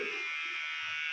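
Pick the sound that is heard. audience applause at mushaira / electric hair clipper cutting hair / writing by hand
electric hair clipper cutting hair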